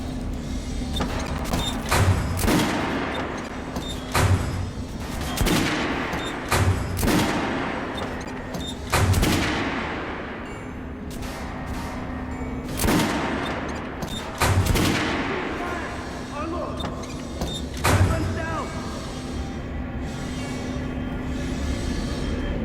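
Gunfire in Metro Last Light Redux: repeated loud shots and bursts, irregularly spaced over a steady background drone, with a faint voice now and then.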